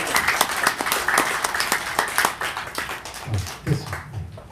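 An audience applauds four presenters at a seminar on the Jeju 4.3 incident, a loose patter of clapping hands that thins out toward the end, with a few low voice sounds near the close.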